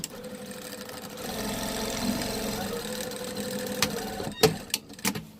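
A sewing machine runs steadily through heavy denim to backstitch a fabric Easter basket, its motor humming with a fast mechanical chatter before a few sharp clunks near the end.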